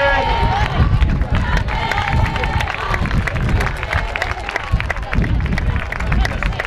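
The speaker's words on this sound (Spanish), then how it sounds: "Un fuerte aplauso para él." A crowd applauds as a youth men's medal winner steps onto the awards podium at a regional final in Moaña. Continuous, fairly loud clapping and crowd noise fill the clip, with an announcer's voice partly heard over it.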